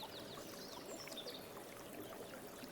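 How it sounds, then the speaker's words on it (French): A babbling stream trickles and flows in a calm garden, a soft, continuous watery rush with faint chirps above it. "Tu n'entends que le bruit des oiseaux, d'un ruisseau qui coule"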